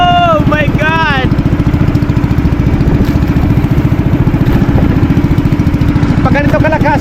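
A loud, steady motorboat engine drones with a fast rhythmic chug throughout as a fishing boat heads out to sea, with brief voices rising above it at the start and end.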